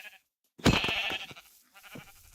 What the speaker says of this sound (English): we gotta kill sheep right away